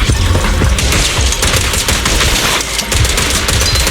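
Rapid, dense gunfire in the video game Zenless Zone Zero, loud sustained bursts of shots with booming impacts layered over game music, continuous for the full stretch.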